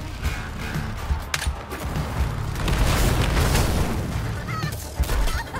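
A tank firing in the Suicide Squad: Kill the Justice League video game, heavy booming blasts and rumbling explosions over a dense, loud battle din with scattered sharp cracks.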